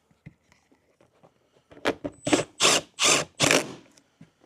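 A screw is driven into a nut to fit a fender flare on a Polaris RZR, a close run of about five short, loud ratcheting bursts after a few faint clicks.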